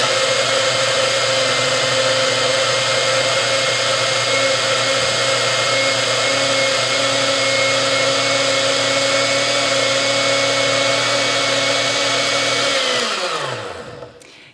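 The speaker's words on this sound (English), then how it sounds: "So now we will put the top back on the blender and blend it up again." A countertop blender with its lid on whirs a green smoothie of leafy greens and whole flax seeds, a loud, steady motor drone with a high whine that holds for about thirteen seconds before spinning down to silence.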